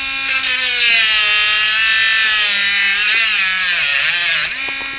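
A Dremel rotary tool grinds through the shackle of an extra heavy duty commercial padlock, a loud, close, continuous high whine that dips in pitch under load for about five seconds.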